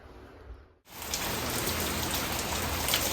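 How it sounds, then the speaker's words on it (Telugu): Heavy rain pours down in Goa, a steady dense hiss that starts abruptly after a brief quieter stretch and then stays loud and continuous. "చాలా వాన అయితే కొడతా ఉంది"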